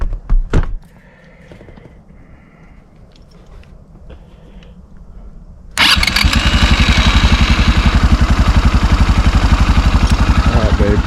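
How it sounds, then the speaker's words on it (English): Trail-riding vehicle engine cranks and catches after its starter is jumped, settling into a loud, steady running roar, preceded by a few quiet clicks and thunks. "we're gonna do MacGyver and hot wire it. We're gonna jump the starter."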